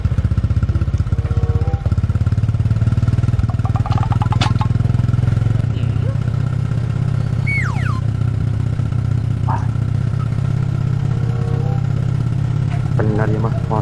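A motorcycle engine runs at a steady, loud idle throughout, with brief squeaks and beeps over the constant rumble.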